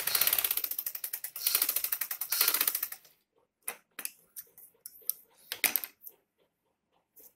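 A sewing machine runs a fast rhythmic stitching burst across a fabric sleeve for a designer garment, then stops, leaving scattered faint clicks and handling sounds of the cloth.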